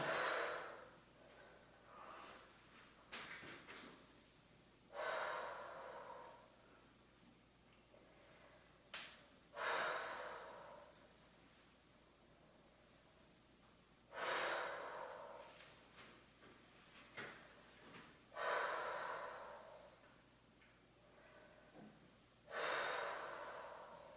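Heavy breathing during an upper body workout, with strong, breathy exhales and inhales spaced a few seconds apart, close and fairly loud over a quiet background.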